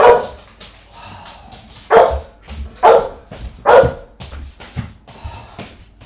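A pet dog barks loudly and close by indoors, four sharp, evenly spaced barks about a second apart after an opening one, with quieter huffs and whines between them.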